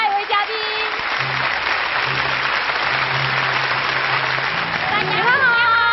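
A studio audience at a television talk show claps steadily to welcome the next guest, the dense applause running through the whole stretch while voices and a few musical tones carry over it.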